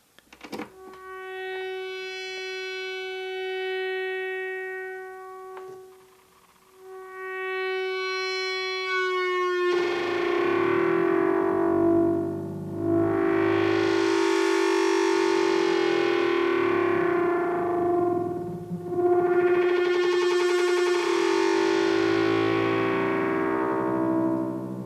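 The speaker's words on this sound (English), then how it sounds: "listen as I turn up the CV input of the modulator, which is basically going to cross modulate from the carrier oscillator" Livewire Dalek Modulator cross-modulating a synth oscillator: a steady buzzing tone with harmonics builds, then turns into loud, harsh, metallic ring-modulated sweeps that rise and fall in slow repeating waves, close and continuous with no talking.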